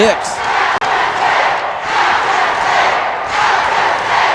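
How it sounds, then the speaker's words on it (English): Basketball crowd at a boys' 2A state quarterfinal roars steadily for the Alchesay Falcons, a loud sustained cheer with a sharp dip near the start and surging swells, some voices shouting through the din. "they're cheering on their Falcons"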